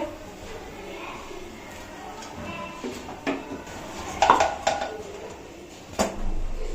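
A moong dal pizza is shaken in its pan and flipped over, bringing a few muffled scrapes and knocks of metal partway through and a soft thump near the end, heard over low room noise.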